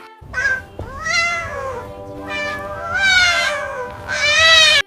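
A cat meows several times in a row, drawn-out and close, with short pauses between the cries.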